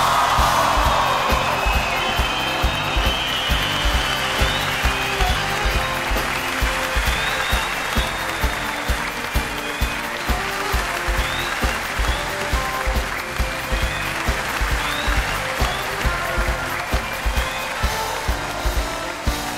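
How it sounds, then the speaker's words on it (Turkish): A studio audience at a Turkish comedy show applauds, sustained clapping from a crowd that continues steadily throughout at a fairly even level, with no speech over it. "Alkışlarınızla İbrahim Büyükak geliyor"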